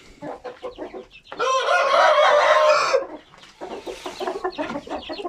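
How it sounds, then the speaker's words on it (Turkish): Hint-breed hens and their chicks cluck in quick, close bursts, broken midway by a long, loud rooster crow before the clucking resumes. "Evet civcivlerimize bakalım biraz arkadaşlar."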